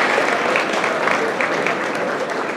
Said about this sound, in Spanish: Fuerte el aplauso para recibir a todos estos estudiantes con sus becas